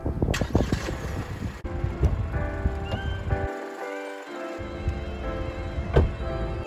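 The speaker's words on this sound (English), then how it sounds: "you can start the car with the key like some expensive cars" A Geely Coolray SUV from 2020, remote-started with the key, with a short starter crank and the engine catching, then a steady idle hum, with some clicks and a faint whine from the car around it.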